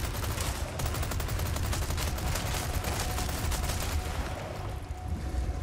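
Sustained rapid automatic gunfire from a Chicago Sweeper submachine gun in Resident Evil 4 Remake, loud and continuous for the whole stretch with dense repeated bursts and no talk over it.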